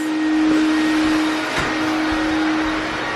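A vacuum cleaner running steadily close by, a loud continuous whirring roar with a faint tonal whine.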